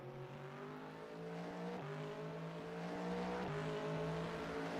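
GT3 race cars, a McLaren among them, roar around Silverstone in a steady, loud engine drone, with a few gear-change dips as revs climb again coming off a turn.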